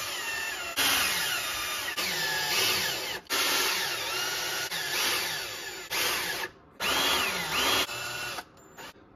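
A handheld power tool whirs in repeated short bursts, driving bolts while a transmission and four-link are mounted on a 1/10 scale RC rock crawler, each run rising and stopping with brief pauses between.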